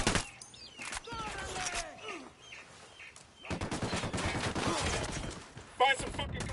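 Gunfire in Ghost Recon Wildlands, with sparse shots early on, then a sustained rapid automatic barrage through the second half. A sharp louder burst comes near the end, with voices and faint chirps underneath.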